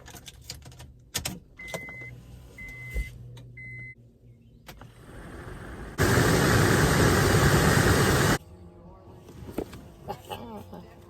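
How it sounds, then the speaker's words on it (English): A used HVAC blower fan for a 2004 Honda Odyssey, plugged in for a bench test, whooshes loudly for about two seconds, framed by quieter clicks and handling noises before and after. "pull this plug and plug your junkyard fan in, and we'll fire it up and see what happens"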